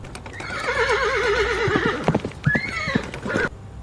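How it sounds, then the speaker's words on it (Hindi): A horse whinnies loudly and close for about two seconds, its wavering neigh rising and falling, then hooves clatter in an irregular gallop with a second shorter whinny over the beats, heard in a quiet night setting. "तभी सन्नाटे को चीरती हुई घोड़े के तेज दौड़ने की आवाज़ सुनाई दी।"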